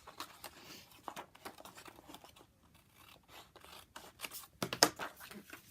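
Scissors cutting through folded paper for a paper bag, a string of quiet crisp snips and rustles, irregular and close, with a sharper crunch near the end.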